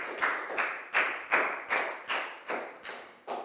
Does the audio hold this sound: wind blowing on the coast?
no